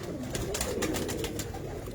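Pigeons coo softly in a loft, low murmuring calls blending into a continuous background hum with faint fluttering, fairly quiet and without talk.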